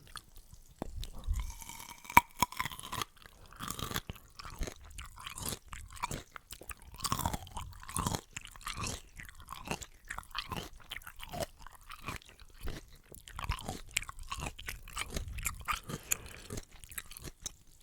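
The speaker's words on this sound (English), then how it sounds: "let's get some crunchy pickled vegetables like this onion" Close, crisp crunching of a pickled onion being chewed, with irregular bites and wet mouth sounds repeating steadily, no talking.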